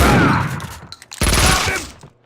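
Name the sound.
gunfire in the video game Max Payne 2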